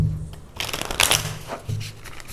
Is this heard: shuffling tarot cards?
yes